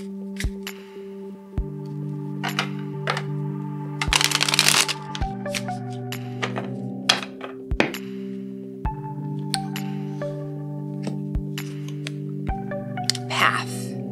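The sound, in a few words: oracle cards being pulled and handled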